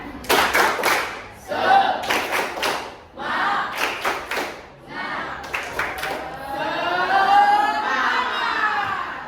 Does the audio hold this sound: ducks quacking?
no